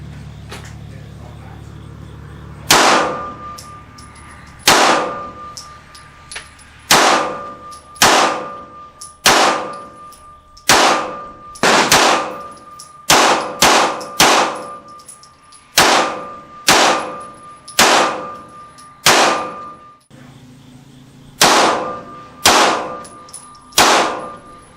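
Midnight Son MK.III custom Glock 19 pistol firing at a range: loud single shots with sharp metallic ringing, spaced a second or two apart, sometimes in quick pairs.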